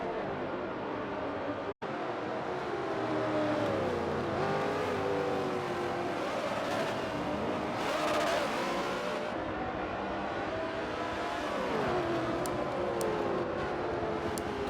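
A race car on Mazda Raceway in a sim racing game accelerates and revs continuously, engine pitch rising and falling through gear changes, a steady close engine drone across the whole stretch.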